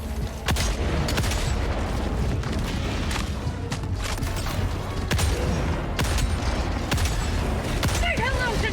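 The anti-material rifle in Helldivers 2 fires a series of sharp, heavy shots at irregular intervals against a busy backdrop of battle noise, while a narrator talks over it.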